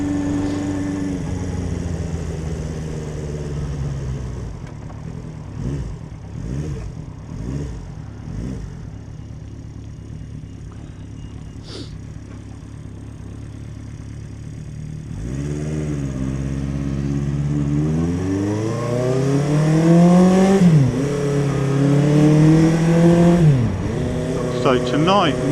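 A motorbike starts and idles, then revs and rides off at night, rising and falling in pitch through gear changes as it pulls away, with someone talking over the early part.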